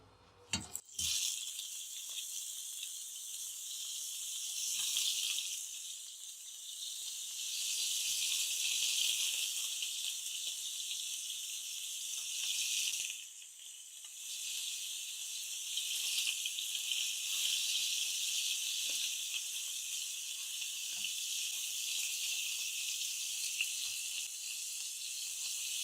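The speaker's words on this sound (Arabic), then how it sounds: "هنحمر الأرانب بتاعتنا بعد ما استوت" Rabbit pieces frying in two spoonfuls of ghee in a home kitchen give off a steady, bright sizzle that runs on its own for the whole stretch. Faint rattles and small pops come through now and then, with no talk.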